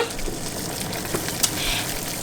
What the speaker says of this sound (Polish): Nasza woda się już gotuje z łyżką oleju.